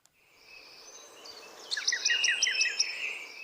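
A missel thrush singing a mimicked shelduck call, a thin rising phrase that breaks into a quick series of bright repeated notes, moderately close over a quiet background.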